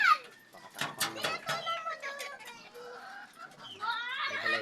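Bantam chicken, a white feathered-footed bird, clucking and calling in a repeated, choppy series close by, with a person talking in between the bird's vocalisations.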